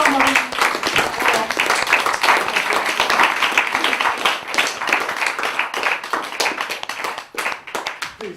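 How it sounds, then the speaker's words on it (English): A theatre audience at a magic show claps heartily, many hands close and loud at first, then thinning into scattered claps before fading. "I'll give you a round of applause."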